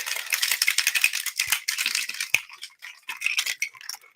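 A cocktail shaker packed with ice is shaken vigorously, a loud steady rattling of cubes against metal in fast rhythmic strokes lasting several seconds, with no talking.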